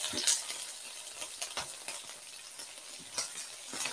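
Garlic scapes sauté with beef in a hot pan, giving a steady close sizzle broken by scattered sharp pops and spits of oil.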